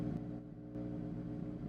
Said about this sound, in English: Car is a tiny bit too loud.